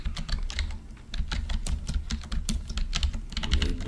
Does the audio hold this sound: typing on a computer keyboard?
yes